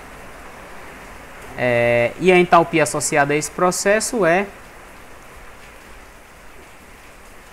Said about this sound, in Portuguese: E a chuva ficou mais forte